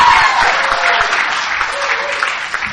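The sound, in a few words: audience applause at an AA speaker meeting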